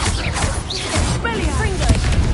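A Descendo spell slamming an enemy down in the Hogwarts Legacy video game: a loud whooshing swish followed by a heavy crash and thud amid dense combat noise, with a voice speaking over the action.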